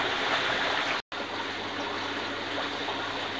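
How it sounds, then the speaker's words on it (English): Water rushes steadily as a koi pond filter is flushed out to waste, a dense continuous gushing close by that cuts out for a moment near the one-second mark before resuming. "I'm just going to flush, send that to waste and fill it back up."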